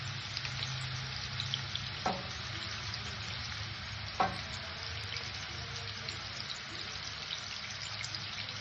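Muttalu fry in hot oil in a pan with a steady, close sizzle and bubbling hiss, broken by two sharp clinks of a utensil.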